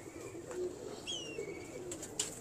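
Teddy pigeons coo softly a few times in a quiet setting, faint and somewhat distant, with no voices.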